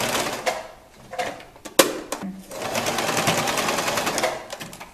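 A sewing machine stitching a fabric turban tiara, with short bursts of rapid needle whirring separated by pauses, then a longer steady run, close by.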